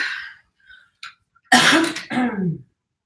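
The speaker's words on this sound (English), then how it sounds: "I'm sorry I'm coughing" Faint breathy sounds, then two harsh, close coughs in quick succession.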